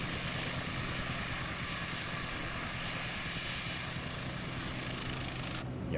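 A helicopter's rotor and engine drone steadily in flight, a dense, even roar that stays unbroken with no voices over it.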